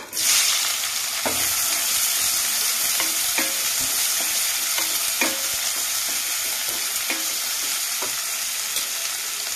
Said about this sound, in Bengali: গরম হয়ে গেছে, তো আমি এবার এতে দিয়ে দেব পেঁয়াজের কুচি।